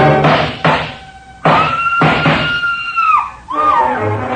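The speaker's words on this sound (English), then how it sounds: "A scream filled the house, high and frenzied." A woman's high, frenzied scream fills a house in a 1947 radio detective drama, rising and wavering in several loud, drawn-out bursts that bend upward and fall away.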